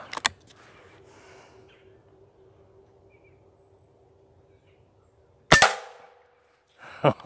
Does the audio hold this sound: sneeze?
no